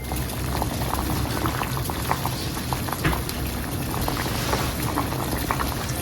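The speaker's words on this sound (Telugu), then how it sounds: "ఇలాగా మొత్తం క్యాలీఫ్లవర్ అంతా బాగా బాయిల్ అయిపోవాలి" Cauliflower boils in a pot of water, a continuous bubbling and popping close by with small splashy bursts throughout and no speech.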